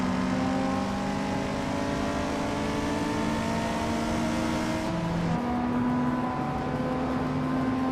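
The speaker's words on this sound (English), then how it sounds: "the race has just kicked off at Grand Valley Speedway short track" A pack of race cars, including a 1979 Chevrolet Camaro Z28, pulls away at the start on the Grand Valley Speedway short track, making a steady, loud engine drone that shifts pitch partway through as gears change.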